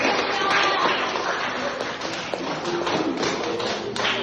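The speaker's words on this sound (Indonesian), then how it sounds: "Tepuk tangan dong untuk teman-temannya" Schoolchildren clap for their classmates in a classroom, a brisk, fairly close burst of many small hands with scattered taps and thumps.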